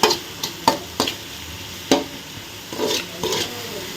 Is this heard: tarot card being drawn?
no